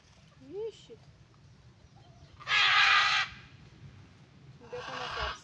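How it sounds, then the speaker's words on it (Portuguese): Loud harsh squawks of a macaw burst out in two bouts, with fainter calls between them, outdoors beside a garden bed in rural Brazil. "olha o barulho dessa arara aí"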